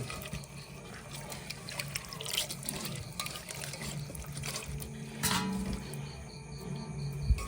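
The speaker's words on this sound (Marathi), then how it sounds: "त्याच्यात पाणी टाकायचं आपल्याला साधा थंड पाणी" Water pours and trickles into a pot, a faint continuous flow with a low hum and a few clinks in the background.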